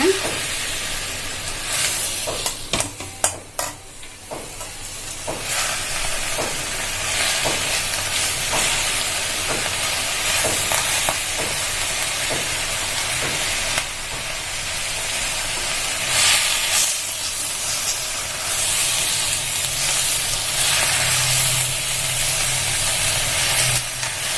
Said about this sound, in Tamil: பாலக்கையும் வதங்க விடணும் நம்ம.